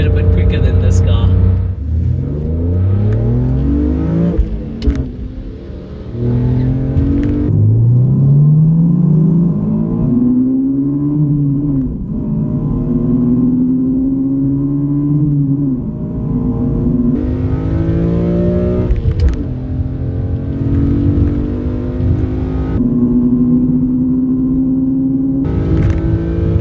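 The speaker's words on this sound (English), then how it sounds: "S2000 left me there, it got into the power band quite a bit quicker than this car." A Honda S2000 and a BMW M3 E46 accelerate hard on the road. The engine rises loudly and close through several gears, each climb broken by a brief drop at the shift. A voice talks over parts of it.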